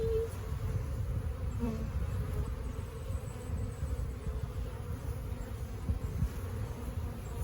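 A dense, steady hum of many honeybees buzzing close by during installation of a bee package, continuous and even throughout, with no voices.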